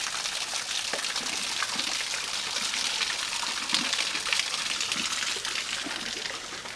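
A small waterfall in Louisiana pours steadily over rocks, a continuous, moderately close gush and splash with no pauses, with light trickling detail over the top.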